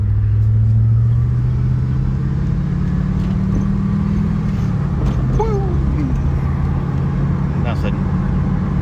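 A Jeep WJ on a test drive rolls over a bump, steady engine and road rumble close and loud throughout, with a faint rising whine partway through.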